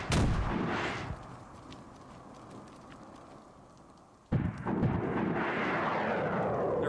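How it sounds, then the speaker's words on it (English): Rocket launcher fire in the video game DayZ, a loud booming blast with a long rumbling tail fading out, followed by a second sudden heavy explosion that keeps roaring. "They're rocket launchers."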